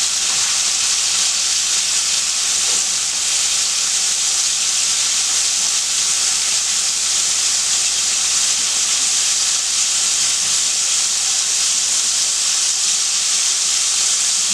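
Cubed steak frying in hot oil, a loud, steady hiss and crackle that stays even and close throughout, with no talking.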